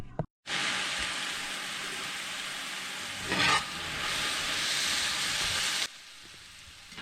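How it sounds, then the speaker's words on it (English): Garlic cloves frying in a pan for garlic mushroom pasta, a loud, steady sizzle that starts abruptly, swells briefly in the middle, then cuts off near the end, with no talking. "I'm also going to add in here about 2 or 3 garlic cloves and cook this down"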